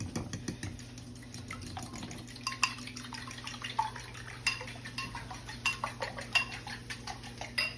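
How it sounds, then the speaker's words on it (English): A fork whisks eggs and milk in a bowl during breakfast cooking, making quick light clinks and scrapes over a low background hum, fairly faint and close. "add some milk, and whisk that up with a fork"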